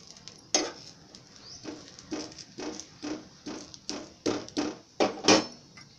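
Aloo cheela roasting in a pan makes a steady run of rhythmic scraping and pattering bursts with a faint sizzle underneath, close and fairly quiet with no voices.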